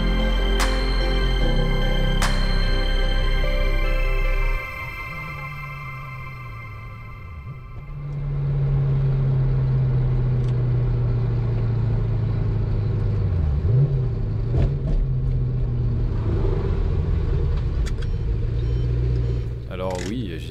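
A Maserati 3200 GT cruising on a French motorway gives a continuous low engine drone and road rumble that swells slightly partway through, with a voice speaking over it.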